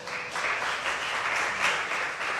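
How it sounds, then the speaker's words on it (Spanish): A church congregation breaks into dense, steady applause, a full wash of many hands clapping together for the whole short stretch. "Dale un fuerte aplauso"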